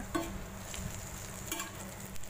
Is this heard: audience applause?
no